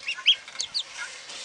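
A goose honks and gripes in short, nasal bursts near a duck pond feeder, several quick calls close to the microphone with no talking.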